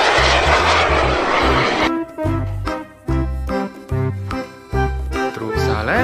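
A super jet aircraft engine roars loudly and steadily for about two seconds, then gives way to music.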